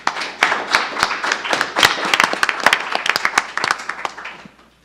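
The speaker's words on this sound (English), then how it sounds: "Let's give them a round of applause." An audience at a League of Women Voters candidate forum for the El Camino District applauds the candidates, producing a dense, brisk round of many hands clapping that swells, then tapers off near the end.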